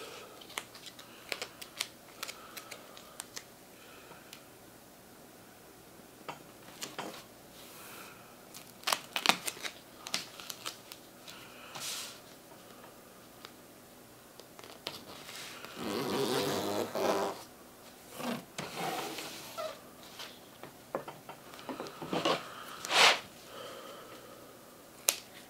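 Duct tape pulled and pressed down to seal edges, giving irregular crackling rips and sharp tearing bursts spread over the span, with a longer, louder stretch of tape unrolling midway, close and fairly quiet, no talk.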